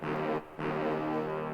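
A synthesized brass sound in FL Studio, doubled up an octave for a trap beat, plays a sustained, buzzy chord with its top notes removed. A brief gap splits two held stabs.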